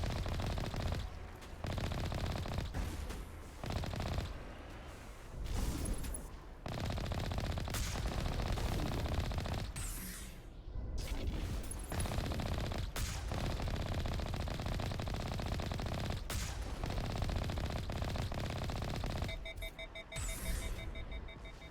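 Rapid bursts of automatic weapon fire crackle through a Mass Effect Legendary Edition firefight, quiet but steady, with short breaks between volleys and occasional electronic beeps near the end.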